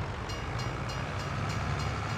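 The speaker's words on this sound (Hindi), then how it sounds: "अबे जल्दी निकल ट्रेन आ रही है टक्कर लगेगी" A train rolling toward a platform in the Farming Simulator 22 video game, a steady loud rumble with faint repeating clatter, close and continuous with no voices.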